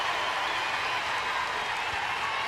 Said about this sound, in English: When their offense starts to get runners on base, this crowd gets even louder.